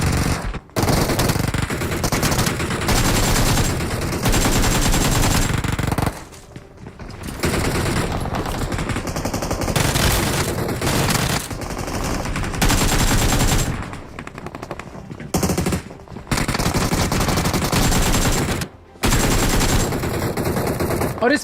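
Rapid automatic gunfire in the mobile battle royale game BGMI, loud bursts of fast shots in long strings separated by short silent gaps, with no talking over them.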